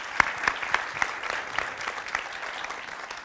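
An audience at a conference applauds with scattered, crisp hand claps that form a steady patter. The sound is moderately close and carries no voices.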